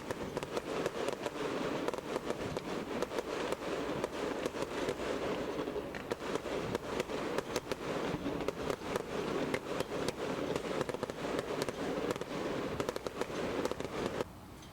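Fireworks burst near Baltimore on the Chesapeake Bay, a dense, continuous crackle of rapid pops and booms heard from a distance for the whole stretch, with no voices.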